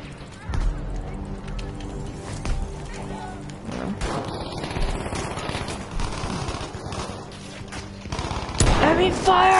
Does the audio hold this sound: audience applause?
no